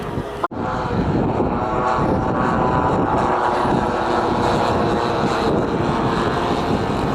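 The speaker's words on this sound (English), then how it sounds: "Great sight there with the P-51 Mustang, the Cadillac of the sky, escorting the B-17 and the Wellington in the picture as well." Large-scale model aircraft flying at a model show, a P-51 Mustang escorting a B-17 and a Wellington, giving a continuous droning propeller engine hum with steady wind noise, fairly loud after a brief sharp knock at the start.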